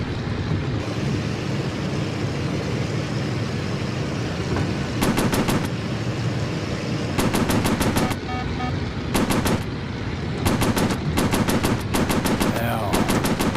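Machine gun fire from the VR game Warplanes: Battles Over Pacific comes in several sharp, rapid bursts of varying length over a constant aircraft engine drone.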